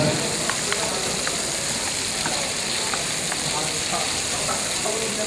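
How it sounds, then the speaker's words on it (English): Food stirred in a cooking pot over heat, a continuous sizzle and bubbling with faint scraping clicks of the utensil, steady and close, while someone talks. "we're going to give a little stir"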